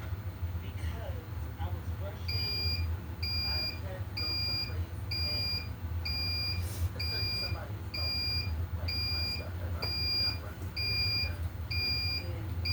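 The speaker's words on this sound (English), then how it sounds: "I was counting with every beep" A heat press timer used for DTF transfer printing on T-shirts gives steady, evenly spaced high-pitched beeps, about one per second, over a constant low hum.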